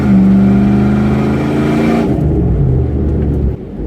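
A 1997 Jeep Grand Cherokee Limited (ZJ) engine revs hard and loud from inside the car as it speeds up to pass a cyclist, then the roar eases off sharply and settles to a lower drone.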